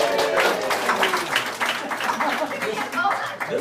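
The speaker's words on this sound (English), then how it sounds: "Give them a big round of applause." An audience claps through a steady round of applause at a talk on communicating with kids, the dense patter holding evenly for several seconds.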